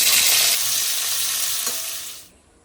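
Steamed ivy gourd pieces hit hot oil in a pan, giving a loud, close, bright sizzle that fades away over a couple of seconds.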